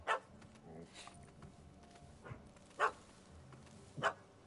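A dog in the video game The Witcher 3 gives a few short, sharp barks at a distance, spaced irregularly over a low, quiet background.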